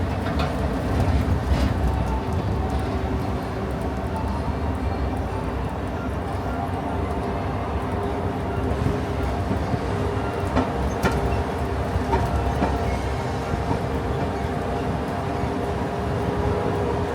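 Disneyland tram ride with a steady rumbling roll and rattle throughout, with occasional faint announcements and voices under the noise.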